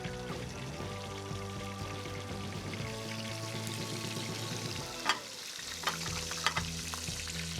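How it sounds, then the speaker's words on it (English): Razor clams fry in a hot pan with a steady, close sizzle and crackle, and a few sharp clinks come near the end as the cooking continues. "Already sizzling."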